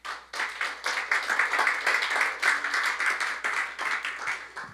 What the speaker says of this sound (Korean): 김치훈 회장께 박수 한번 해주십시오